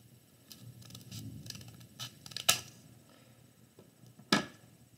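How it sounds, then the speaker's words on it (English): Scissors snipping through folded paper while trimming a paper snowflake, a few sharp close cuts with two louder snips over soft rustling, no talking. "We're going to get rid of them with our scissors."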